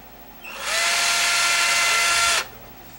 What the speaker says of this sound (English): So I'm just going to take my drill and just add a single hole.